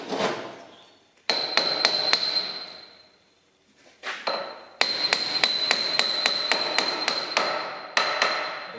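Steel hammer driving a new Timken rear wheel bearing into its seat on a classic Volvo Amazon: bursts of sharp, ringing metallic blows in quick, steady rhythm, close and clear, with pauses between sets.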